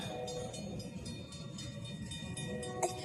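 A freight train rolls past with a Burlington Northern hopper car among its cars. It makes a steady, loud rumble with rail noise that continues throughout, and a brief clank comes near the end.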